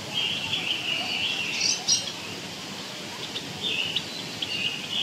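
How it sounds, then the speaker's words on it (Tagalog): Birds chirp and tweet in an aviary in Hong Kong Park, scattered high calls at moderate distance over a soft ambient background, with faint voices in places. "Hindi ko lang alam kung anong klaseng ibon yan."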